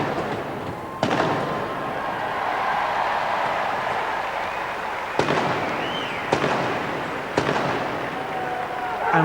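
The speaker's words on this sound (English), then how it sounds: "3 rounds to be fired" A Portsmouth field gun crew fires rounds from a field gun during the 1992 competition at Earls Court, with several sharp bangs spread across a steady, noisy crowd ambience.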